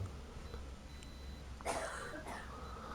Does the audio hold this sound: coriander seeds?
no